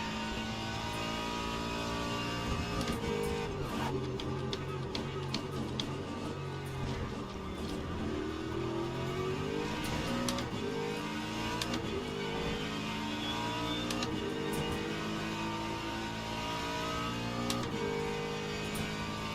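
A GT3 race car in Le Mans Ultimate holds a continuous loud engine note with rising and falling revs through gear changes while lapping traffic on the Sebring circuit, with sharp clicks scattered over the steady drone.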